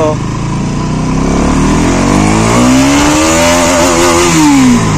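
A Bajaj NS200 motorcycle engine revving hard in first gear, a loud close roar climbing steadily in pitch over several seconds toward high revs.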